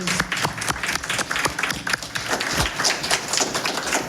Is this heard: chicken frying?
no